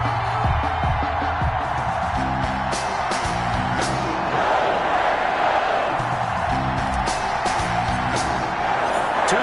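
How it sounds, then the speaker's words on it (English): Stadium crowd at an NFL game between the New York Giants and Green Bay Packers in the final week of the season, a dense steady roar of cheering with scattered whoops and a commentator talking over it. "This crowd is ready as their guys get set to match up between the New York Giants and the Green Bay Packers."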